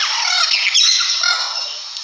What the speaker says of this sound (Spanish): El perico.